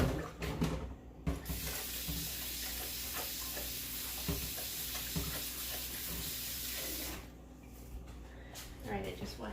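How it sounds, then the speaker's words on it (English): Hands are washed under a running kitchen tap, giving a steady loud rush of water for several seconds that starts and stops abruptly, with a voice heard around it. "I just washed my hands."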